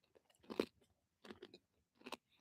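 Crunchy bacon being chewed close to the microphone outdoors on a quiet morning, three brief bursts of crisp crunching separated by short silences.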